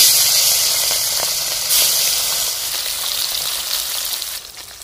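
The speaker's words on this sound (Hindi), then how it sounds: "इसमें हम मछली फ्राई करते हैं।" Grass carp fish sizzles steadily in hot oil in a village kitchen, a loud, continuous crackling hiss close by with no talking.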